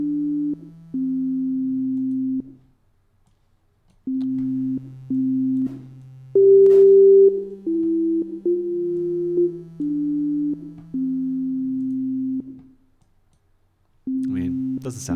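Plain synthesized MIDI tones play a slow melody in separate phrases with gaps between them, each note trailing off with a soft reverb echo.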